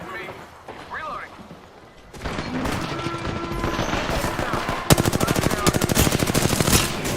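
Video game gunfire erupts after a quiet start, building into dense automatic bursts and a rapid string of loud shots toward the end, with a voice talking underneath.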